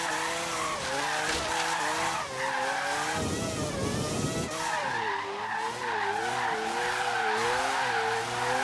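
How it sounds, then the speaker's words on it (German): A car in Forza Horizon 3 drifts with a loud, continuous tire skid. The engine note rises and falls steadily, with a harsher squealing burst in the middle of the slide. "aber driftet sich ganz geil und vor allem auch sehr schnell"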